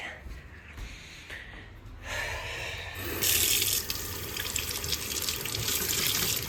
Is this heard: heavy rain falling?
no